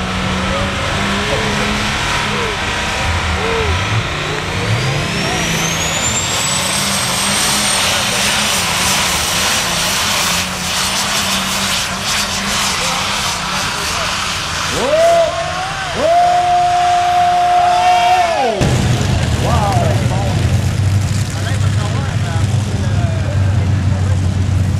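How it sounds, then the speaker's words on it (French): Heavy pulling tractor with a 436 cubic inch four-turbo diesel engine, loud and continuous, roaring at a sustained pitch with a rising turbo whine and shifting tones near the end at a pulling event, with an announcer's voice over it. "Moteur 436 cube, 4 turbo diesel."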